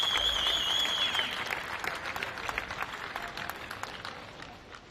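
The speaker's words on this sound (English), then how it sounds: "please give one final round of applause" Lively applause from an audience, many hands clapping that gradually thin and fade, with a brief high whistle near the start.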